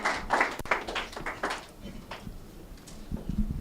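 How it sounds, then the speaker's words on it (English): Scattered applause at a Ghana investment-climate panel event, a handful of quick claps at the start that thin out and fade into quieter room sound. "round of applause for Samira"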